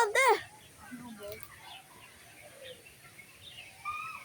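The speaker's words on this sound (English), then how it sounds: "Whoa, crows. Crows up there." Crows in a bird park give a loud burst of cawing, followed by fainter scattered bird calls, with people talking nearby.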